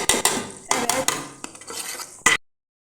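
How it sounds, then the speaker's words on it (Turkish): A spoon stirs minced meat pasta in a metal pot, close scraping and clinking strokes in quick bursts for a couple of seconds before stopping abruptly. "Karıştırıyoruz, karıştırıyoruz."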